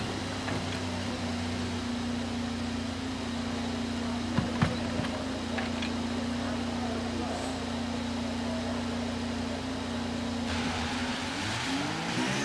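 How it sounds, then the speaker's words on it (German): An F1 race car engine drones steadily in the F1 23 video game at Bahrain, a loud sustained hum close by with a brief blip of revs near the end and no talking. "Motor läuft, es kann losgehen."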